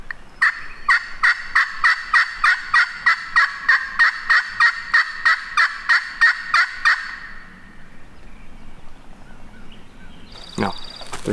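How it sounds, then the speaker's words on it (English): Farm turkeys gobbling outdoors, a steady run of about eighteen loud, rapid gobbles in a rhythmic burst lasting several seconds, then quiet ambience with a brief sharp noise near the end. "No, they're farm turkeys."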